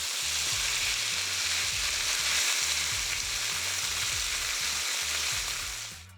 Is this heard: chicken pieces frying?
yes